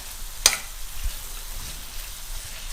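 Chicken and broccoli being stir-fried in a pan, a steady soft sizzle with a brief sharp clatter near the start, low and fairly quiet throughout.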